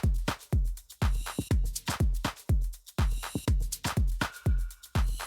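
An Afro house beat plays alone, with thumping kicks on a steady four-to-the-floor rhythm and short wood block clicks and hi-hats woven between them.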